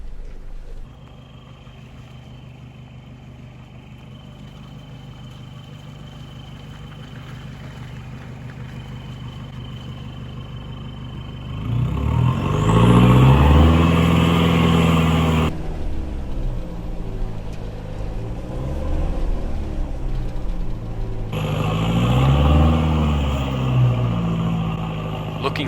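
A 4x4's engine on a forest hill trail, idling low at first, then revving harder and labouring in bursts as it climbs, loud and close.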